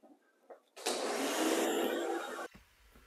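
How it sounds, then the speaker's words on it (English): A garage shop vacuum fitted with a 20-foot hose starts with a sudden loud roar after a few small knocks, runs steadily for under two seconds, then cuts off abruptly, leaving a fading low rumble. "I always keep a 20-foot hose on my shop vac"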